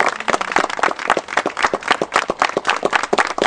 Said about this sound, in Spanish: para quien voy a pedir un fuerte aplauso